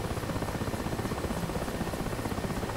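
Mi-8 helicopter in the DCS World flight simulator, a steady dense rotor and turbine drone with rapid blade chop, constant and loud throughout with no voices.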